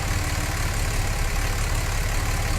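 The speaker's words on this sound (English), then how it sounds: "You see the idle is getting difficult." A diesel engine with badly calibrated common rail injectors idles roughly, a steady low, uneven rumble that holds at close range for the whole stretch with no talk over it.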